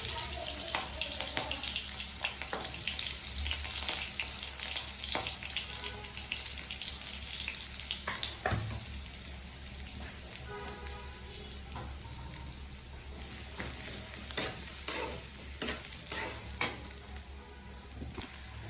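Onion and garlic sizzle steadily in hot oil in a pan, a loud continuous crackling hiss with occasional stirring scrapes toward the end.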